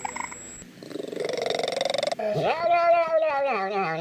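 A cat purring in a steady, close, rhythmic rumble, then breaking into a loud, drawn-out meow with a rising and falling pitch.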